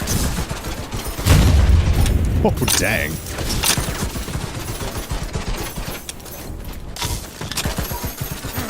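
Slug Shot weapon firing in a video game, heavy booming shots with sharp cracks and a loud burst near the start, then scattered blasts among game effects, with a voice briefly reacting.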